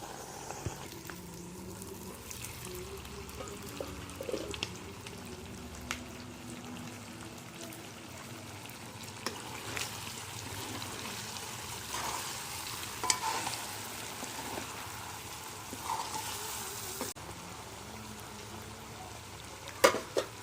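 Pork with tomatoes and capsicum cooks under a lid in a pan in Assamese style, producing a continuous low sizzle and bubbling with scattered small pops and ticks throughout, no talking.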